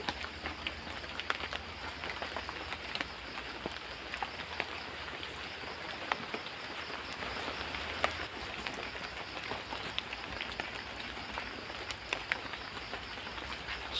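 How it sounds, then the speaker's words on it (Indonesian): Heavy rain pours steadily on a campsite at night, a dense, continuous hiss of drops with scattered sharper patter on nearby surfaces and no pauses. "Suasana hujan lagi. Suasananya hujan sekali."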